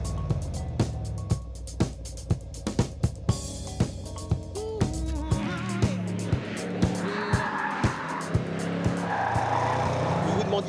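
A Range Rover Sport SVR corners fast with its tires squealing and its engine roaring, a close, sustained run of rising and falling squeals over a rhythmic thumping backing track.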